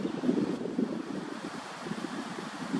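Coastal wind buffets the microphone in a steady, low rumbling roar with gusty swells, heard alone while an osprey is being filmed on Harriets Bluff Road.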